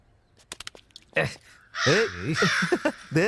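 A crow gives a quick run of sharp caws in a crime thriller film scene, and then voices take over with loud speech.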